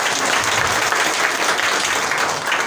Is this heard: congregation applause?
yes